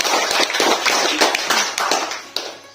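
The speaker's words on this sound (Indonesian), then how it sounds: "Nah, jadi kita beri tepuk tangan dulu untuk kedua calon kita." Applause from a village crowd for the two village head candidates at a candidate confirmation and number draw in Hanangan, a burst of brisk, close clapping that thins out near the end.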